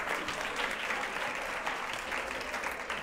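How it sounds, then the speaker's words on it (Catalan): Studio audience applauding a contestant on a Catalan word quiz show, a dense, even burst of many hands clapping that holds steady throughout, fairly close, with no talk over it. "Carlos, l'aplaudim, no, també?"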